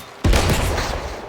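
A single loud gunshot rings out in the video game First Light, a sharp crack with a trailing echo that fades over about a second.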